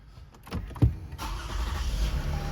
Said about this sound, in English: So go ahead, start the car.